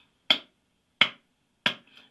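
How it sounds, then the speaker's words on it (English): Three sharp, close hand claps at an even, slow pace, each a crisp isolated crack against silence, made to test the latency of Bluetooth speakers. "the reason I'm clapping is because"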